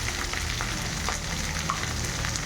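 Sliced okra frying in a hot pan for a coconut curry, giving a steady, dense sizzle that stays close and even throughout, with faint stirring clinks and no talking.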